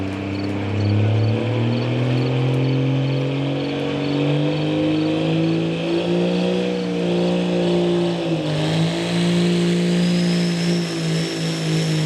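A Dodge truck with a Cummins diesel engine at a truck pulling event in Lisbon, Ohio, roaring loud and close in a sustained drone whose pitch climbs, wavers and dips, with no voices.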